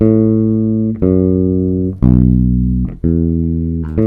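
Four sustained low bass guitar notes played one after another, each about a second long with a clear attack, moving through a 1-6-2-5 chord progression.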